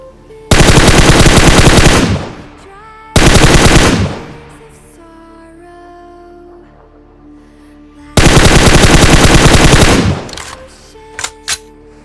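Loud automatic gunfire from a battle royale video game rips out in three long sustained bursts with gaps between them, followed by a couple of single sharp shots.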